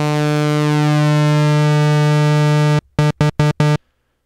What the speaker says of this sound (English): That's a saw.